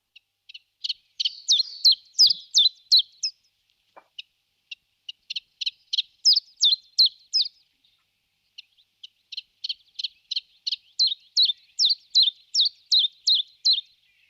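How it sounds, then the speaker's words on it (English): Chiffchaff singing in a woodland dawn chorus: repeated bursts of bright, evenly spaced two-note chips in steady rhythm, phrase after phrase with short pauses, fairly near and clear above a quiet background. "you can clearly hear chiffchaff singing on the Dawn Chorus above some of the other birds"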